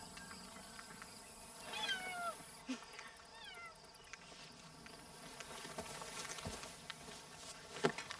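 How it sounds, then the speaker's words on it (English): A cat meows twice, soft and drawn out, amid quiet background noise and faint rustling. "Is that a cat in there?"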